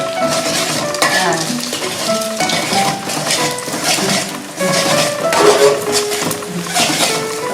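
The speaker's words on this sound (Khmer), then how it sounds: "យើងទៅជៀនពងទាដើម្បីឆាបាយបងប្អូន" Duck eggs fry and get stirred in a pan while making shrimp fried rice, giving a steady close-up sizzle with the scrape and clink of a metal utensil against the pan throughout.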